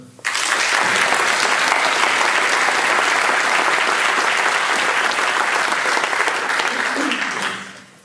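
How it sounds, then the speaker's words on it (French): Loud, sustained applause from a large audience at a building inauguration, rising quickly and holding steady before fading out at the end. "Nous pouvons les applaudir."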